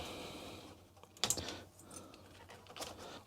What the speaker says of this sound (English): While I'm at it, I'm gonna remove all the keycaps.